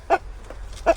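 A chicken gives two short, close clucks about a second apart, separated by quiet with faint background noise.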